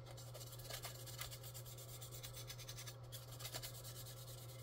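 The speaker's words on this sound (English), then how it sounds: "I'm not sanding it heavy enough to get any of that detail out of there" Steady light rasping of sandpaper rubbing back and forth over a hard plastic part, soft and close, with a constant low hum underneath.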